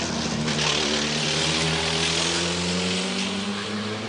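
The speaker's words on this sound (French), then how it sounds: "Vous l'avez entendu, le moteur de la Toyota" A Toyota race car engine at Le Mans 1994 drones loudly and steadily, its low rumble shifting slightly in pitch, with no voices over it.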